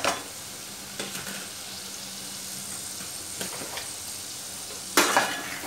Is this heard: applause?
no